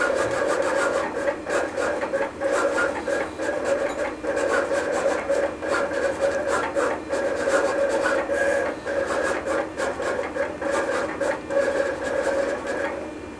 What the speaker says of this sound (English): Once the cutter has completed the cut, I'll advance the material out and trim off the design.